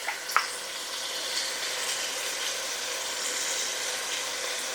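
Frozen onions with salt sizzle in a hot pan with a steady, bright frying hiss, close and even, with one sharp clink near the start and no voices.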